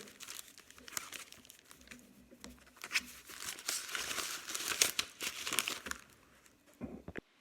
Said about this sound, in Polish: I teraz to wkładam do koperty.